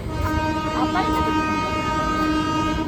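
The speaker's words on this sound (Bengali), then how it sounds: "ট্রেন ঢুকে গেছে এবার ট্রেনে উঠবো" A train arrives at Bandel station in a steady loud rumble, with sustained horn-like tones rising over the din and voices mixed in among the platform noise.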